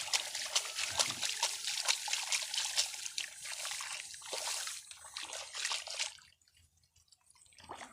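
Plant roots are rinsed in drain water, giving a close run of dripping, trickling and splashing that fades near the end to near quiet, with no talk over it.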